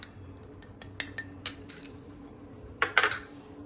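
Metal spoon clinking against a steel bowl or pan while ground black pepper is added for a bread and potato roll mixture, a few sharp, light clinks spaced apart and a quicker cluster near the end, with no talking.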